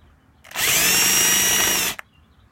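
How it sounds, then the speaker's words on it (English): A power drill with a spade or Forstner bit whirs at high speed into wood for about a second and a half, loud and close, then cuts off abruptly. "drill out a little hole"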